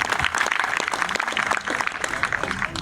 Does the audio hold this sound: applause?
yes